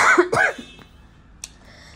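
A couple of sharp coughs up close at the start, followed by quiet room tone and a small click later.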